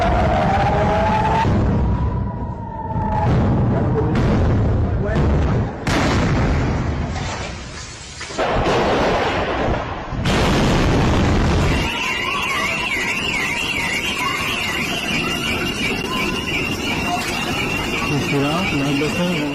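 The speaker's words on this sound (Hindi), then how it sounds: "रात के अंधेरे में मिसाइलों के जरिए जो शोर मचता है" Missiles exploding over a city at night: a string of heavy booms and bursts in the first seconds, then a wailing siren rising and falling over steady background noise, with voices present throughout.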